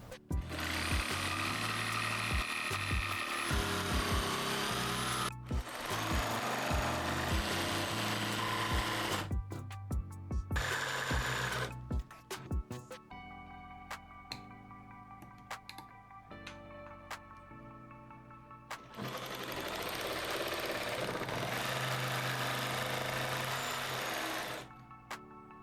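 Jigsaw fitted with a metal-cutting blade sawing through soft plywood, loud buzzing bursts of rapid reciprocating chatter broken by pauses, quieter mechanical ticks and rattles in between, then another long cut before stopping.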